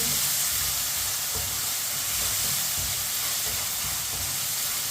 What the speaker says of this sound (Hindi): अब टमाटर को भी 2-3 मिनट के लिए पका लेंगे